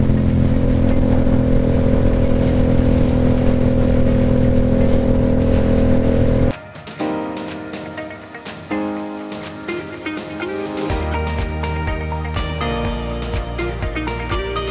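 Steady loud engine drone from a motorcycle moving at the speed limit, shifting halfway through as other vehicles rush past with whooshing road noise and Christian rock music playing faintly.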